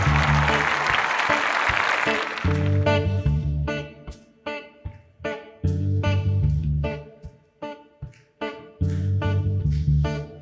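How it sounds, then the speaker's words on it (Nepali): A studio audience on a Nepali singing talent show bursts into loud applause for about two seconds, then music takes over. "जोरदार ताली"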